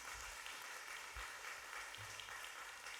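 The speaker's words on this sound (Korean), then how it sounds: "큰 박수로 하나님께 영광." A church congregation at a Korean Sunday worship service claps together, producing a steady, even wash of applause that is very quiet and distant throughout.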